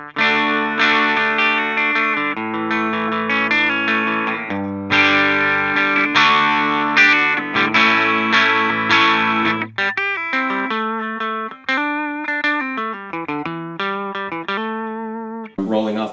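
Electric guitar through a Seymour Duncan Nazgul high-output pickup with the tone knob fully up, playing a loud, bright distorted passage of sustained chords and then single-note lines, with no talking over it.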